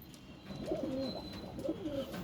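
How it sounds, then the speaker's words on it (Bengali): A pair of Madras pigeons coo in a loft, giving two soft, throaty rolling calls close by with faint background hum and no talking. "দেখুন দুটো পায়রা কালেকশন করেছি। এই দুটো ম্যাড্রাস পায়রা"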